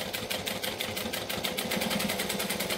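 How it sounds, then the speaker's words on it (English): Domestic sewing machine stitching a wallet, running steadily close and loud with a rapid even needle rhythm through most of the stretch, with no talk. "So I'm going to do a couple of stitches and then back stitch."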